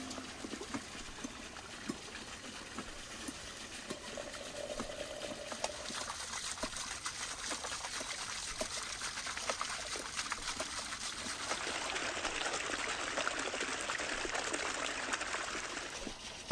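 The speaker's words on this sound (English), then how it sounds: "Water in the samovar is boiling." Water boiling in a samovar outdoors in a mountain nomadic camp gives a steady, faint bubbling and hissing with a soft trickling texture that builds slightly over time, with no talking.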